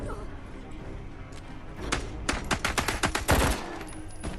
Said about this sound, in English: I just try and shoot him in the head.